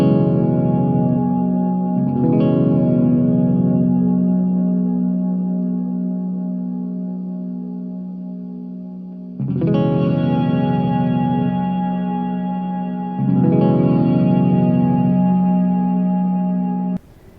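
Electric guitar chords ring through a JOYO R-14 reverb pedal as its tone control sweeps the reverb brighter and darker, each strum swelling into long, lush decaying tails; three separate strums, loud and close, no talking.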